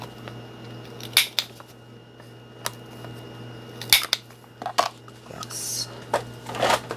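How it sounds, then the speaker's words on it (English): Scissors snipping the corners of a paper library card pocket in a craft tutorial, a handful of short, sharp, separate clips spaced irregularly over a faint steady hum, close and fairly quiet. "And we'll cut the corners on this one."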